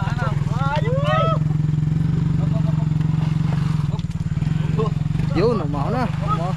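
A motorcycle engine runs steadily in the background with a constant throbbing drone while people talk loudly over it.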